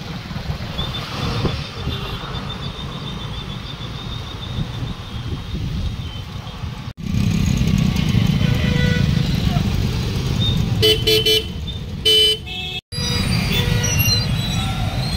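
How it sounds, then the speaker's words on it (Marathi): Road traffic flowing along the NH4 highway beneath the Tawade Hotel bridge in Kolhapur after Panchganga river flooding: a steady engine rumble with gusty wind on the microphone, growing louder and denser midway, with brief passing bursts. "तुम्ही बघू शकता वाहतूक सुरळीत झालेली आहे"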